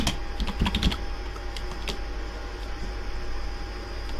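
Quick bursts of typing on a computer keyboard, with a cluster of clicks near the start and a few scattered keystrokes after, close and clear over a steady fan-like hiss.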